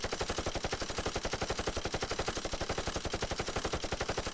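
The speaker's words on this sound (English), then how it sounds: "I picked up an infinite ammo submachine gun." An infinite-ammo submachine gun in a video game fires nonstop at a fast, perfectly even rate. The bursts stay steady and moderately loud for the whole stretch, with no pauses and no voices.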